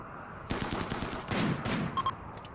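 Gunfire from the video game Rimworld during a raid, a flurry of sharp, rapid shots and bursts starting suddenly, moderately loud, with a few distinct pops near the end and no talking.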